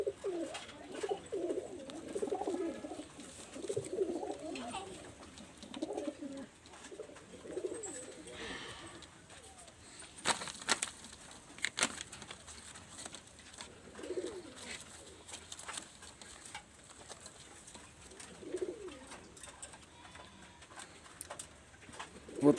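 Teddy pigeons cooing softly in pairs, low repeated coos rising and falling at a moderate distance, with some faint ticking and background noise between calls.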